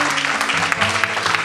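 Church congregation clapping in steady broadband bursts, with background music tones sustained underneath, continuous and fairly loud throughout.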